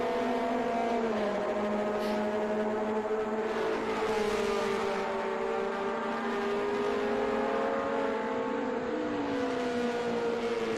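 Air-cooled Porsche race cars accelerate hard toward the last corner, engines droning loud and continuous with rising, overlapping tones that shift as the cars pull past.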